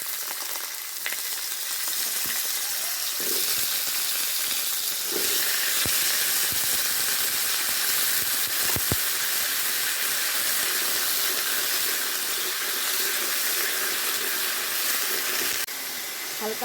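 Mixed vegetables frying in hot oil in a wok for moong dal, giving a steady loud sizzle and hiss throughout, with faint stirring clatter and no talking.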